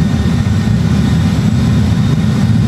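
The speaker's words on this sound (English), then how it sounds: "Speed brake is up, reverse thrust set" An airliner's jet engines roar in reverse thrust just after touching down on the runway at Madeira Airport, a steady loud low rumble with broadband jet noise throughout.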